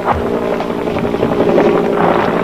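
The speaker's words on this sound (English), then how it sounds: "we noticed a South Vietnamese army helicopter circling directly above us" A South Vietnamese army helicopter circles directly overhead during the Vietnam War, its rotor drone steady and loud throughout, with a continuous low thrum and no voices.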